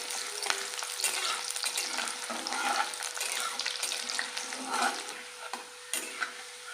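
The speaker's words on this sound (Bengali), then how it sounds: "তেলটাও গরম হয়ে গেছে, এবারে দিয়ে দেবো কোচানো রসুন। রসুনগুলো হালকা করে ভাজবো।" Crushed garlic frying in hot oil makes a dense, steady sizzle and crackle from close by. A few faint utensil scrapes and clinks sit within it, and nobody speaks.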